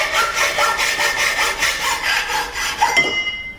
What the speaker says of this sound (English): That is the best hacksaw blade I ever saw.